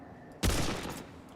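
A single loud burst of gunfire from a post-apocalyptic shooter game, starting abruptly after a quiet lead-in and ringing out before fading over about half a second.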